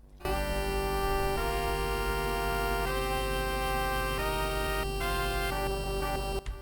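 Original music from an older build of the fan game Advance Wars Alpha, a steady chiptune-style melody with sustained tones and a regular bass pulse, playing alone without talk.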